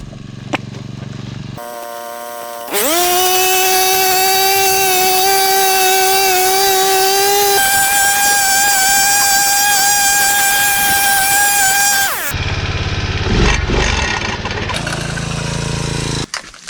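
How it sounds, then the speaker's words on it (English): Four-stroke weed whacker cutting grass at a campsite: the engine starts, revs to a loud, steady high whine for about ten seconds close by, then drops back to a rough idle and sputters. "I've just got the 4-stroke weed whacker there, whippersnipper. I'm going to shorten this grass up a little bit there"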